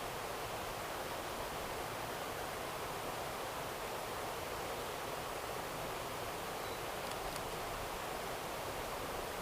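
A waterfall gives a steady broadband rush, continuous and fairly faint at a distance, with no voices over it.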